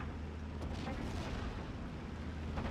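Artillery shells landing in the World War II strategy game Steel Division: a dense, continuous rumble of booms and explosions, loud and unbroken, with a few sharper impacts standing out near the start and end.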